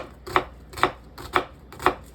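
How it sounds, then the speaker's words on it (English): Knife dicing an onion on a cutting board, four crisp evenly spaced chops about half a second apart, close and clear with no talking. "Now I'm gonna grab the onion, and this is the dice."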